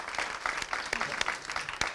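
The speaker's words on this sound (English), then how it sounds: "a big round of applause" Audience applause at a dance research congress in Mumbai, a steady wash of clapping with sharp individual claps poking through, moderately loud and sustained throughout.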